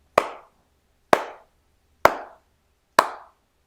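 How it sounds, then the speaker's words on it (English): Four sharp hand claps sound at the start of a music track, evenly spaced about a second apart, crisp and close with short decays and no other sound. "I had my 4 claps at the beginning"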